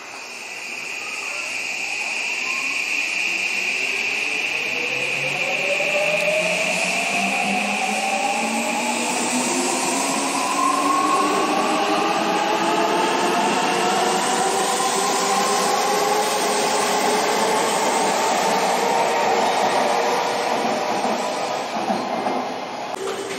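A train pulls out of a Japanese station decorated with Doraemon characters, its rising motor whine and electric tones sweeping upward over steady rumbling as it accelerates away for over twenty seconds.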